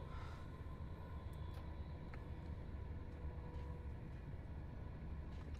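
In Train Simulator 2021, on the West Coast Main Line through the Midlands and North West, a train sets off with a low, steady rumble and faint mechanical whine that stay even and unbroken, with no voices.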